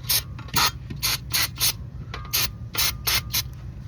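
Brake cleaner sprayed in repeated short hissing bursts, about eight blasts with brief pauses, onto the rusty ABS sensor area of a 2012 Toyota RAV4, close and loud over a low background hum.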